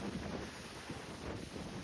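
Rough monsoon sea waves churn at Rock Garden, a steady, loud roar of surf with heavy wind buffeting close to the microphone throughout.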